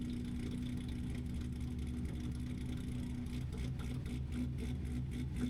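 A straight-piped C6 Corvette idles close by with a deep, rough, lumpy rumble, the tuned idle chop pulsing in a loping rhythm that grows more pronounced toward the end, with no one talking.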